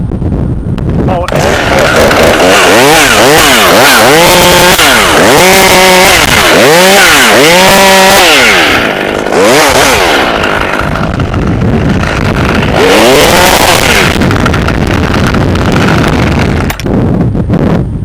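A Husqvarna T540 XP chainsaw roars loudly while cutting tree limbs, with repeated revving surges and strained bogging through the wood, then settles into a steady high engine whine with wind noise.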